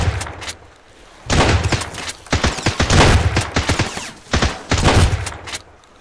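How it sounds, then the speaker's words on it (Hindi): Shotgun fire in a video game, several loud booming blasts in quick clusters separated by short pauses, close and dominating the mix, with no talking. "इसको शॉटगन से मार के देखूँ क्या यहाँ से क्या होता है"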